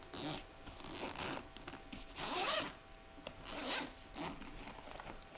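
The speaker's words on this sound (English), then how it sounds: "Let's go ahead and unzip." A camera light's carrying bag being unzipped, several long rasping zipper pulls with brief pauses between them, close and moderately loud with no talking.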